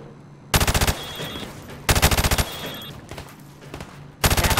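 Rapid rifle gunfire in a Call of Duty shooting-range drill, three loud bursts of automatic fire, each about half a second long, separated by quieter background game ambience.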